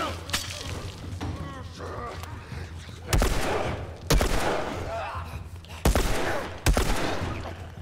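Gunfire in The Last of Us Remastered: a handful of sharp, heavy shots ring out one by one with echoing tails in a sewer setting, spaced irregularly over quieter game ambience.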